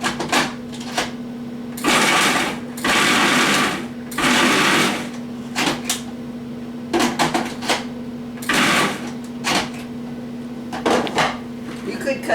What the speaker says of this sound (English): they're just a lot faster and easier to chop them up in my food processor